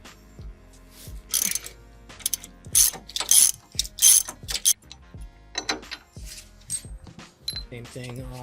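A ratchet with a 21mm socket loosens the upper control arm bolts on a 2023 Chevrolet Silverado ZR2 during a suspension install, giving close, crisp bursts of rapid clicking separated by pauses.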